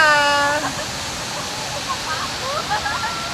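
Water rushes loudly and steadily at Tinago Falls, a broad, continuous roar close by, with people's voices heard faintly over it.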